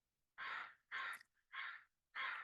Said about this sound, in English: Those are our visiting crows in the back garden confirming